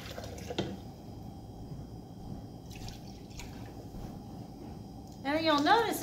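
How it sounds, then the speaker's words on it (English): Water poured into a two-cup measuring cup for cooking rice in a home kitchen: a faint trickle and drip, then a louder gurgling fill with rising pitch near the end, while a person talks throughout. "So what I usually do is I go ahead and pour 2 cups of that, since I have a 2-cup measuring cup here."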